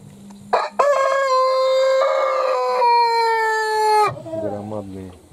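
A Cochin or Brahma rooster, a large bird kept in a dovecote setting, gives one loud, close crow lasting several seconds, followed by softer clucks and calls from nearby fowl.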